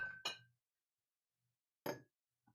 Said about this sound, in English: Let's give this a little unprofessional stir.